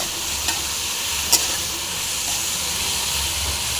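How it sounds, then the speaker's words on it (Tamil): Bitter gourd pieces frying in oil for a pickle give a steady, close hissing sizzle throughout, with a couple of faint clinks of a utensil against the pan. "பாவக்காய் வந்து நல்லா ஃப்ரை பண்ணி நல்லா எண்ணெயிலே ஃப்ரை ஆகணும்"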